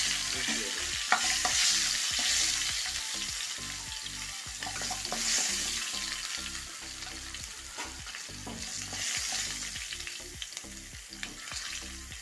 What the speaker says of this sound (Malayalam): ആ പപ്പടം കാച്ച എണ്ണയിൽ കൂടെ നമുക്ക് ചെറിയ ഉള്ളി ഒരു നാലഞ്ച് ചെറിയ ഉള്ളി ഇട്ട് കൊടുക്കാം